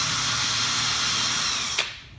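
A power drill drives a screw into wood while building a tree seat, a loud steady whine that stops abruptly near the end, with a brief click as it halts.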